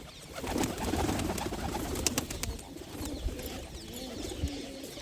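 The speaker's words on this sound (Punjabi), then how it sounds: "ਲੋ ਜੀ ਛੱਡਣ ਲੱਗੇ ਆ ਕਬੂਤਰ" Pigeons coo softly and repeatedly in the distance over a faint outdoor background, with occasional light clicks and rustles.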